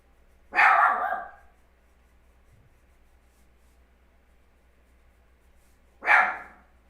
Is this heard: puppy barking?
yes